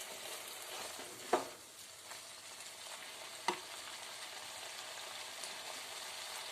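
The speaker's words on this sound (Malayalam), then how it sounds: "വെള്ളമയ ഒട്ടും ഇല്ലാത്ത രീതിയിൽ നന്നായിട്ട് ഫ്രൈ ആക്കണം" Soya chunks fry in a pan with a constant gentle sizzle and crackle, quiet and close, broken by two sharp clinks of a utensil against the pan.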